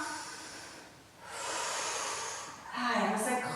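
Heavy breathing during a dumbbell arm workout: a long, airy exhale follows a quiet pause, then a stronger, louder breath begins near the end, close and unaccompanied.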